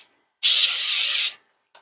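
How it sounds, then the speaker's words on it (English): Cooking spray hisses onto a baking pan in one close, steady burst of about a second, followed by a brief short puff. "okay, so we have our pan sprayed."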